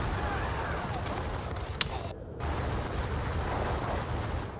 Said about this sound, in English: Oh, volley fire.